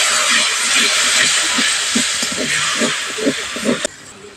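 A splash of water hitting ground spices, including Kashmiri chilli powder, in a hot pan, producing a loud, sustained hiss that fades with crackling, then cuts off abruptly near the end.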